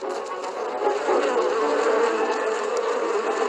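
Honey bees buzz in a dense, continuous swarm hum, loud and close, with a steady droning texture that rises slightly after the first second and holds without pause.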